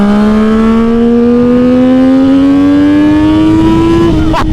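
Triumph Daytona 675R motorcycle engine revving hard on a racetrack, pitch climbing steadily through a long, loud pull before a quick shift near the end, no talk.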